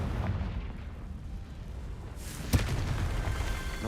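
A spell explosion from the Hogwarts Legacy video game bursts with a sharp, loud boom midway, preceded by a low rumbling ambience and followed by a sustained roaring tail.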